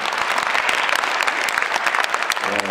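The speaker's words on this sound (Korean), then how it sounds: "자, 들어오실 때 큰 박수 부탁드립니다." Audience at a classical guitar concert in a Hanam arts hall applauds as a guitar trio walks onstage, a dense, lively clapping from a full house that stays loud and even throughout.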